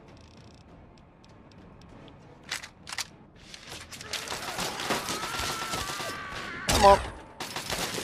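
Plasma rifle fire in Fallout 3 crackles in fast, repeated bursts at moderate volume, building over the second half with a sharper burst near the end, while someone talks quietly.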